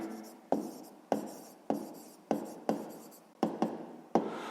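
A pen writes on paper in quick, separate strokes, about eight sharp scratches in a steady rhythm, close and clear with no talk.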